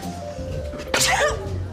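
A single sharp sneeze bursts out mid-clip over a quiet room hum.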